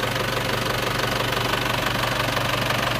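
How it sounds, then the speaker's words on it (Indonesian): An Isuzu Panther car engine idles steadily with a rapid, even knocking rhythm and a low constant hum, close and unbroken. "Nah, sekarang akan kita hidupkan. Bagaimanakah mesin ini suaranya?"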